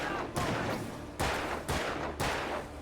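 Gunshots in the horror game Alan Wake, four loud booming shots spaced roughly half a second to a second apart, each with a decaying tail, no talk.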